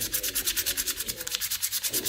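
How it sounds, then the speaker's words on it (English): Rapid rhythmic rasping of sandpaper rubbed back and forth by hand on a wooden carving, close up, about eight strokes per second with a brief pause near the end. "I'm going to do a little bit of sanding."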